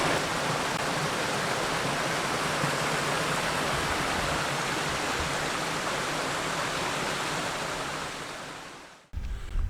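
Water rushes loudly and steadily close by at a wild camping spot, a dense, unbroken roar that cuts off abruptly near the end.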